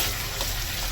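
Onion and tomato frying in a pan for prawn sukka, a close, steady sizzle with light stirring, brief and continuous.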